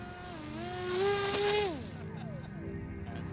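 Small UAV drone's electric motors throttling up, a whining tonal hum rising in pitch and swelling louder around the middle, then dropping and sweeping down as a lower steady drone continues.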